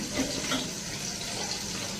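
A kitchen tap runs with a steady, soft rush of water, brief and fairly quiet, with no speech.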